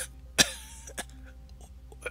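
A character coughs while coming to, one sharp close cough followed by a few softer, brief throat sounds spaced out against a quiet background.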